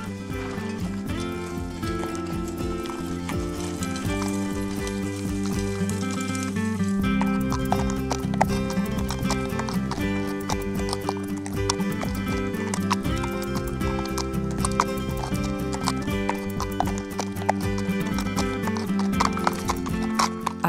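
Horse hooves clop steadily along a route near Port-Vendres during a long ride through the Vallée des Tortues, with an occasional whinny, all mixed under a loud, continuous music track.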